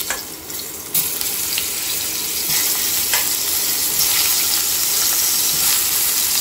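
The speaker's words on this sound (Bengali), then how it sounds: "তো আলুটাকে একটুখানি হালকা তেলে ভেজে নিচ্ছি" Boiled potatoes fry in a little oil in a pan on a gas stove. After an early clatter, a steady, loud, close sizzle carries on throughout.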